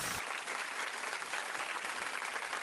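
Steady applause from a crowd, dense and continuous clapping at moderate volume from start to finish.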